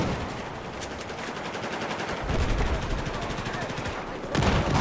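Gunfire from an ACW-R rifle in a Battlefield 4 match: rapid, loud bursts with dense battlefield noise around them, some heavier volleys toward the end, and voices talking over the shooting.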